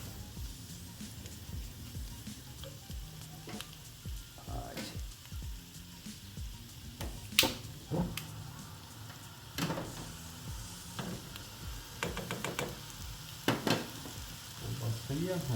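Sausage fries in a frying pan for solyanka, giving a close sizzle with stirring scrapes and sharp crackles that rise and fall, and no talking.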